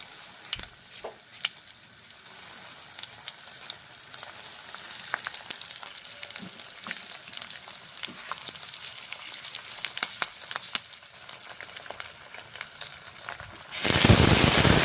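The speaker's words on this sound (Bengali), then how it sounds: "তারপর কলাই ডাল ছেড়ে দিচ্ছি গরম তেলে" Urad dal dropped into hot oil for a whole-moong protein dal, crackling with a steady fine sizzle and scattered pops throughout, then a sudden louder, brighter burst of hiss near the end.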